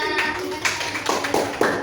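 A small classroom of children claps for a classmate at an elementary school, a brief burst of close, bright hand claps lasting under two seconds.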